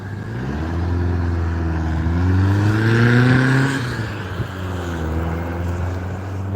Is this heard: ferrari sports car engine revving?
yes